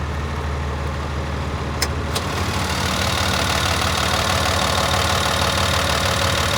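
A loader's Volvo D6E 6-litre diesel idles close by, a loud, even mechanical chug with a couple of sharp clicks early on before the idle settles and continues steadily.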